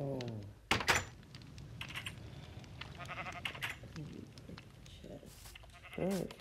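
Sheep in Minecraft bleat in short repeated calls amid clicks and game noise, with a person talking over parts of it.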